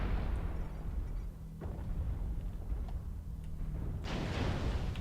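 Missile impacts in MechWarrior Online, piloting a 75-ton MAD-3R Marauder: low, rumbling explosions roll over a constant engine drone, with a sharper burst near the end, dense and booming without speech.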